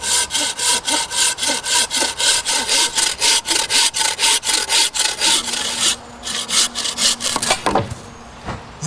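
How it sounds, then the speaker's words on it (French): A hand saw cuts through a wooden log outdoors in rapid, regular push-pull strokes, close and loud, slowing briefly near the end as the cut finishes. "Puis, je peux scier l'intégralité de mon rondin."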